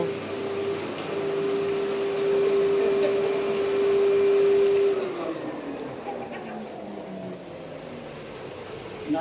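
The air pump system of a jacuzzi under repair runs with a steady, close whooshing hum. A sustained tone sounds through the first half and then fades, leaving the broad mechanical rush.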